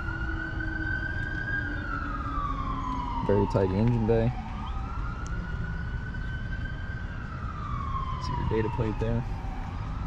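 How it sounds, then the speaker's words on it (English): An EMS siren wails in the background with slow rising and falling sweeps, moderately distant, while someone talks over it about a tidy 1966 Chevrolet Chevelle SS engine bay, with brief yelping bursts mixed in. "Apologize for EMS in the background."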